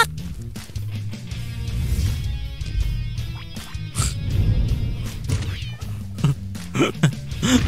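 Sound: cat meowing in a video game

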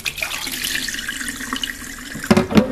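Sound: rinsing rice in water

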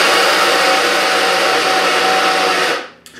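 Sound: grinder milling chopped almonds

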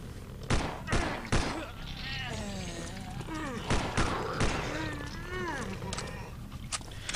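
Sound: gunshots at zombies in video game Day of the Zombie

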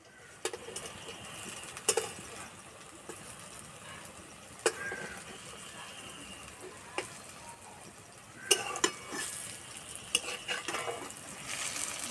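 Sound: frying papaya pakoda

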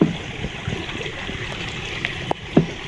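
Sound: strong water leak flowing

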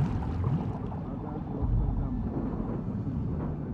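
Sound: boat motor running in video game The Last of Us Part II

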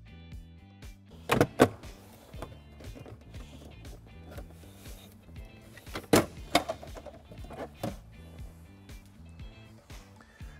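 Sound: rear threshold panel being pulled up from a Tesla Model S

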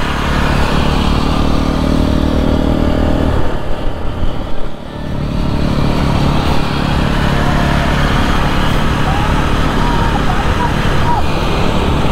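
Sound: Jawa motorcycle being ridden on road

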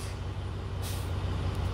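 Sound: school bus air brakes

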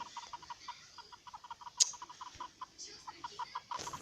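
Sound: chicken clucking in video game

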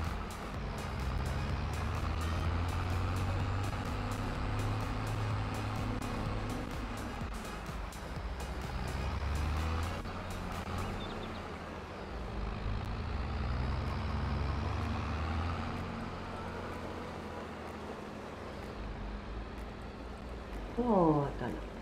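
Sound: tractor driving in video game Farming Simulator 22

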